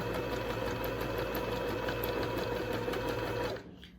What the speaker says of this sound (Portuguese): Vou começar a costurar o ponto zigue-zague.